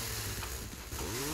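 An enemy's chainsaw in the video game Killing Floor roars close and loud, a dense buzzing engine drone that wavers in pitch and fills the whole moment.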